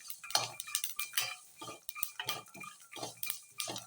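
Spices with cloves, garlic cloves and a little ginger dry roasting in a pan, a spoon scraping and clinking against the metal in a steady irregular rhythm of close, crisp strokes.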